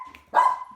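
A single dog bark lands sharply in the middle, close and fairly loud, with a steady faint hum underneath and no other voices.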